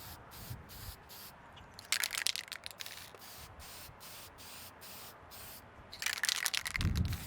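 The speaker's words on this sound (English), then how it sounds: "I keep the can, as I'm painting, I like to keep it shook up pretty good because silver is just so metallic-y" A spray can of Honda Cloud Silver paint hisses in two bursts, one near the start and a longer one near the end, with a light rattling shake between them, close and alone outdoors.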